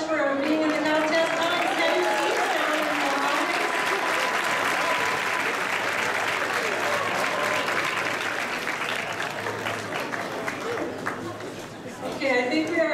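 Audience applause at the Gen Con 2012 costume contest, a dense, sustained wash of clapping and crowd noise that holds loud for most of the stretch before thinning near the end, with a host's voice over it at the start.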